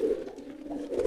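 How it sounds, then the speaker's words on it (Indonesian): A fantail pigeon gives a courting coo, close and fairly quiet, with a low throaty warble that swells at the start and again at the end. "Jadi hampir semua merpati saya itu giringnya seperti ini, teman-teman."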